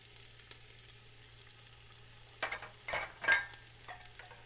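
Onions frying in olive oil in a soup pot, a soft steady sizzle with a few louder scraping stirs toward the end.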